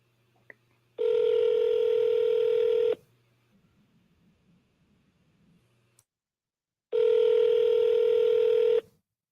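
Two long, loud telephone tones, each about two seconds, separated by a quiet gap with faint clicks and low background noise.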